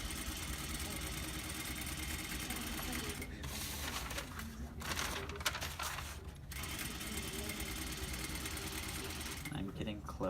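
Sewing machine stitching a skirt side seam down to a godet, a steady mechanical whir and rattling needle rhythm running the whole time, briefly pausing and restarting, with a person talking over it.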